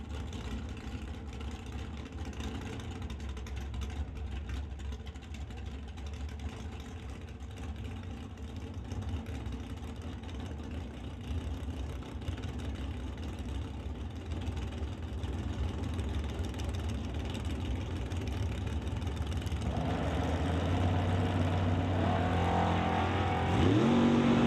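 Drag racing cars idle with a low, rumbling hum at the line, a Pontiac Grand Prix among them, before engines build and roar louder near the end as they rev toward launch.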